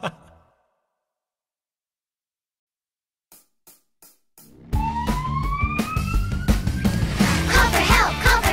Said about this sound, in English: Siren. Just right!